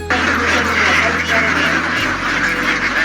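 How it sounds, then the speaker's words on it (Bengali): Many Khaki Campbell ducks on a large farm quacking together in a dense, continuous chorus, loud and close, with a low hum underneath that cuts off partway through. "খাকি ক্যাম্বেল জাতের হাঁস"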